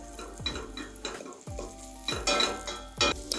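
Garlic frying in oil as a wooden spoon stirs it around the pan, with a steady close sizzle broken by several rhythmic scraping strokes, loud and without talk.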